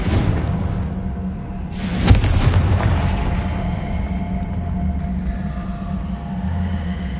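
A Confringo blasting spell in Hogwarts Legacy goes off in a single loud boom with a sharp crack, then rumbles over a steady game background.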